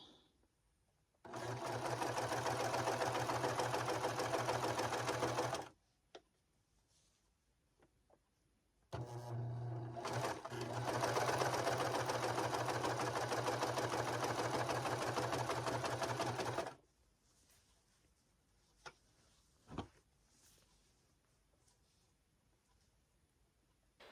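A sewing machine runs in two long, loud, steady bursts of rapid humming stitching along a knit neckline, with a brief pause between them and quiet handling clicks after it stops.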